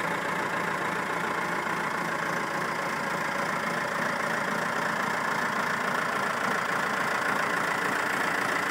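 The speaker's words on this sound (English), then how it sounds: "This is the later four-cylinder engine, not the early 360s" A Massey Ferguson MF 362 tractor with a four-cylinder Perkins 236 diesel idles close by, giving a continuous, steady rumbling chug that holds unchanged throughout with no voices.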